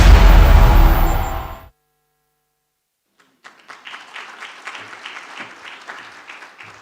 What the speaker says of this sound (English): I think that definitely deserves a round of applause.